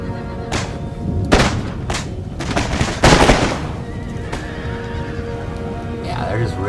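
Musket volleys from camel-mounted gunners crackle in an Empire: Total War battle against Plains Indians, with several loud bursts of gunfire mixed with horse whinnies and battlefield din throughout.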